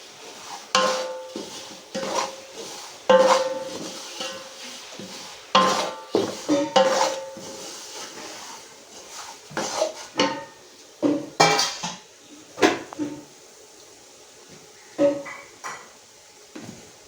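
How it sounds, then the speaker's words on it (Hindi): Semolina for suji halwa being roasted in a pan, with a spoon scraping and clanking against the metal in irregular bursts, close and clear with quiet gaps between strokes. "अब हम डाल देंगे इसमें अपनी सूजी और इसे अच्छी तरह से भूनेंगे"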